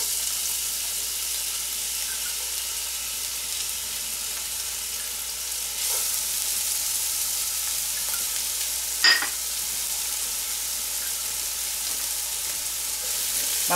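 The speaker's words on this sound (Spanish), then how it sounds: "Vamos a freír un momento." Chopped onion frying in oil in a pan, a steady close sizzle running throughout with a brief clink of a utensil partway through.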